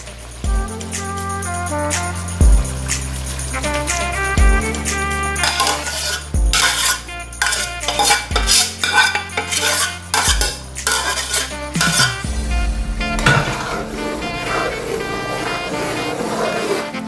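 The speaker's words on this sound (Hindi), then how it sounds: "अब मैं डालने लगा हूँ इसके अंदर दाल।" Chana dal is tipped into mashed tomato paste in a metal pot and stirred, with loud close clanks, scrapes and rattles of a spoon against the pot in an irregular rhythm.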